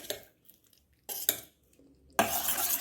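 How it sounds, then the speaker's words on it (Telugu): Ripe bananas are mashed in a bowl for an eggless cake, with soft squelching presses and utensil scrapes in short bursts separated by quiet gaps, ending in a louder sustained mashing stretch. "ఇలా బాగా మ్యాష్ చేయాలి."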